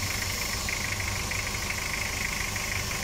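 A Toyota 2L diesel engine, just back from a top overhaul after overheating, idles steadily with a low rumbling hum and faint knocking clatter, close by and alone without voices.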